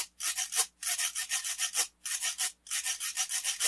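A metal scraper drawn across the large-grooved side of a wooden percussion instrument gives four rasping strokes in a steady back-and-forth rhythm, close and fairly loud, with brief pauses between strokes.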